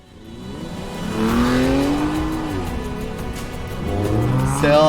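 A Ferrari engine revving up, its rising and falling whine climbing in pitch, then settling before swelling again, loud and close with no voices.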